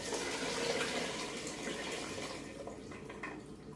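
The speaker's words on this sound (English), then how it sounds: "I'm going to dump the rest of this water out in this pot." Leftover water dumped out into a cooking pot while making a hot sauce, a steady close pouring rush that is loudest at the start and gradually thins out.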